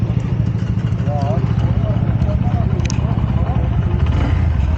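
Honda CB125F motorcycle engine running at a steady idle, a continuous low mechanical hum with faint clatter, close and fairly loud beneath someone speaking.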